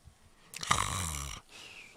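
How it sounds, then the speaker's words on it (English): A person snores once, a single loud, rasping inhaled snore lasting under a second, close by and not covered by talk. "I gotta get that snore drop."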